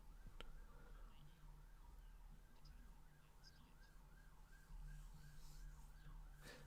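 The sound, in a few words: ambulance siren in the background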